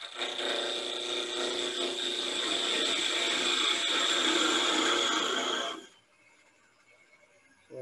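A thin parting tool cutting off a spinning wood piece on a lathe, a loud steady scraping whir with a high ringing tone that stops abruptly after about six seconds, leaving near quiet.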